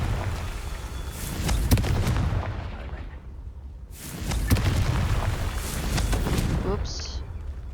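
Explosive blast from the Confringo fire spell in the video game Hogwarts Legacy, two loud booming bursts with rumbling tails, separated by a brief lull, amid game sound.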